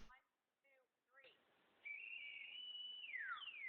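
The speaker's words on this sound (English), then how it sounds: "You think that's a genuine rape whistle? Like that's what a rape whistle sounds like?" A rape whistle test played back through speakers, giving a thin steady high whistle that holds, then slides downward before a second tone enters, after brief faint talk.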